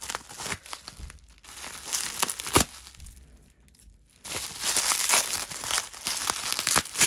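Mail packaging being torn open by hand in a hurry, with loud bursts of crinkling and crumpling plastic and paper, a brief lull, then steady rustling and tearing continuing close up.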